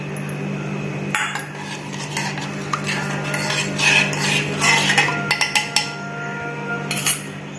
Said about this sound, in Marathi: नंतर हे सगळं दूध मी याच्यामध्ये घालते।